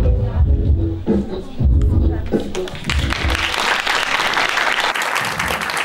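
A theater audience at a live comedy stage show claps steadily in a sustained round of applause, a dense, fairly loud patter with crowd murmur and a few voices underneath.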